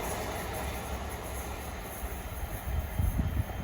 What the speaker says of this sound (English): That was a three locomotives of Colas Rail, 70, 56 and 66 there.